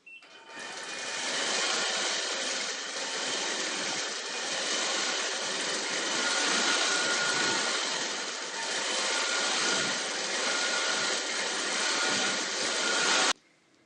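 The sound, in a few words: sewing machine quilting leaves and swirls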